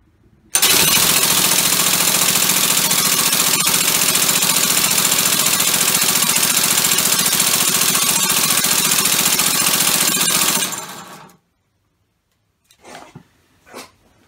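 A compressed-air car engine of the eccentric or crankshaft type runs loud and steady for about ten seconds with a dense, hissing mechanical roar, then cuts off, leaving silence broken by a few faint knocks.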